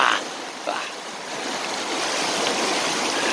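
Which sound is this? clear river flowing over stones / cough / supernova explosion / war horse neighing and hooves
clear river flowing over stones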